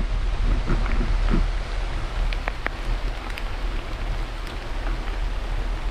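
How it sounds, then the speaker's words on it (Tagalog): Heavy mountain rain pours in a dense, steady hiss with wind rumbling low underneath, a few sharper drips and taps standing out. "bumuhos na yung malakas na ulan"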